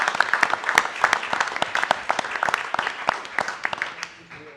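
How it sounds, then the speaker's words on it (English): Audience clapping at a council meeting for a scholarship winner, a moderate spatter of individual claps, fairly sparse and close, thinning out toward the end. "hopefully there'll be some claps for this"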